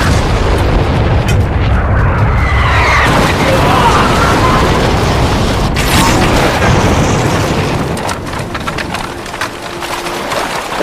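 Cannon blasts and musket gunfire from an attack on two villages in a Japanese ninja (shinobi) battle film, heavy continuous rumbling booms with crackling shots, loud throughout and fading slightly near the end.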